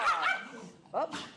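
Dogs playing together make short vocal yips and barks, with one burst near the start and another after a pause, mixed in with a person's voice talking close by.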